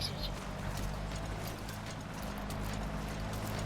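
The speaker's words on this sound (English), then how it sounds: "So again, using my horse as the roadblock." Horse hooves clop in the Metal Gear Solid V: The Phantom Pain video game, a steady soft rhythm under a dense bed of game ambience and rumble.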